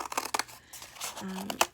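Large scissors snip through yarn while making a yarn-wrapped letter wall hanging, giving a few short, close crisp cuts and rustles at a quiet level.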